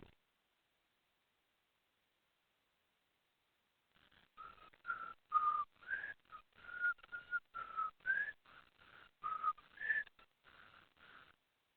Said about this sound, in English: I could whistle if you want.